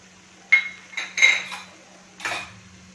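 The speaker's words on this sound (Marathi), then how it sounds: "आणि हे छान मिक्स करून घ्यायचे।" Khoya and sugar are stirred together in a pan, producing a few separate metallic clinks and scrapes of a spoon against the pan, close and moderately loud over a quiet hum.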